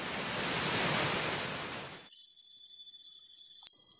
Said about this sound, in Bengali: গভীর জঙ্গলের মধ্যে লুকিয়ে থাকা এরকম একটা ঝর্ণা আমাকে মুগ্ধ আর বিস্মিত করলো